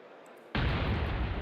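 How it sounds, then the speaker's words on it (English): A sudden explosion erupts in the video game Blue Archive, a single loud boom that cuts in abruptly and holds as a dense, sustained roar after a quiet start. "Well, it wouldn't be Kivotos without the explosions."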